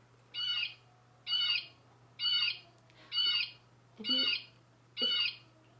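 Six harsh, squawking blue jay calls repeat at a steady pace about once a second, clear and fairly close against a quiet background with a low steady hum.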